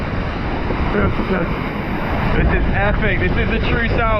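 Strong wind of 30 to 40 knots roars over ocean waves at sea off Cape Horn during The Ocean Race, a loud continuous rush and wash with someone speaking over it.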